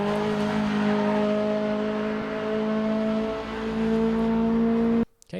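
A Mazda MX-5 in the RaceRoom Racing Experience game accelerates on the Sonoma circuit. The engine holds a loud, steady, rising drone for about five seconds and then cuts off abruptly.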